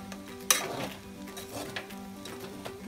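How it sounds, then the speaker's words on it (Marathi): Poha (flattened rice) is stirred in a pan, a soft sizzle under scattered scraping strokes and a sharp metallic clink near the start, close and moderately quiet. "परत एकदा फिरून घ्या"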